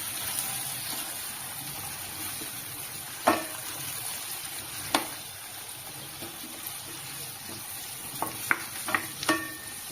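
Tomatoes sauté in a pan with a continuous soft sizzle. A few sharp stirring knocks break through, one near the start and a cluster toward the end. The sound is fairly quiet and close, with no speech.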